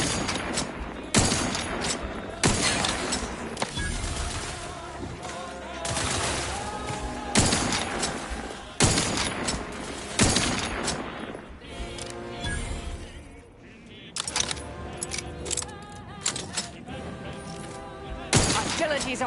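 Gunfire in a firefight in The Outer Worlds 2 video game: repeated loud bursts and volleys of shots over about twenty seconds, with a short lull partway through.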